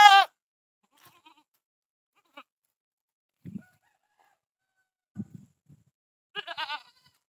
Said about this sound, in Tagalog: Kambing po siya na itim guys.